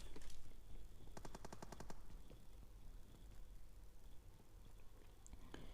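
Rapid automatic gunfire in the mobile battle royale game PUBG Mobile, a tight burst of evenly spaced shots in the middle with scattered single cracks around it, loud over steady in-game background noise.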